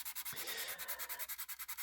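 Plastic model aircraft spine on a 1/72 Italeri Short Stirling kit being sanded by hand, a steady run of quick rhythmic rasping strokes, close and fairly loud, with no talking.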